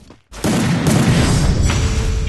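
Rapid gunfire in the Free Fire battle-royale video game, a loud dense burst of shots that starts abruptly after a brief quiet and keeps rattling steadily to the end.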